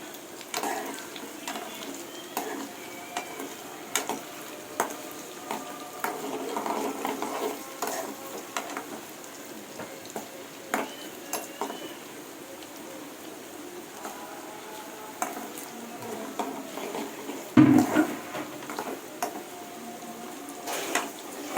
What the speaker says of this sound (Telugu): ఆల్మోస్ట్ ఫ్రై అయినాయి పన్నీరు